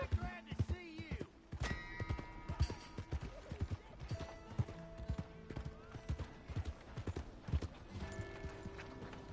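Horse hooves clip-clop steadily in a PS4 video game, a brisk rhythmic trot with scattered knocks and creaks, backed by game music and a brief whinny.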